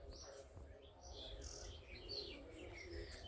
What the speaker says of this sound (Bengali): আর পাখি কিচিমিচির আওয়াজগুলো কি শুনতে পাচ্ছেন আপনারা?